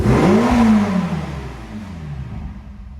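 A warmed-up red 2015 Ferrari California T, 560 hp, gives one loud close rev that peaks and then winds down into a lower, fading engine burble.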